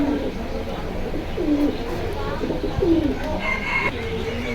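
Domestic pigeons cooing at a pigeon market in Jinjira Bazar, Keraniganj, Dhaka, with several soft rolling coos close by amid busy market background noise and faint voices.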